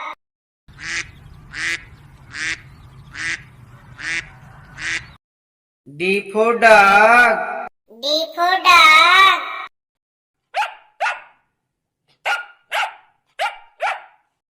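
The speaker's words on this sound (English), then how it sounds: "D for dog." Cartoon dog barking in a children's alphabet song: five or six evenly spaced yaps near the start over a low hum, then louder sung or musical bursts and further pairs of short barks.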